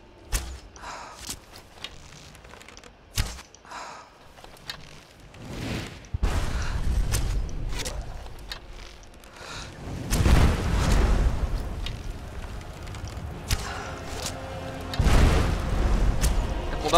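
Heavy booms and explosive thuds burst through a video game battle in Skyrim, swelling into loud, dense rumbling waves around the middle and again near the end, with quieter scuffs and impacts between.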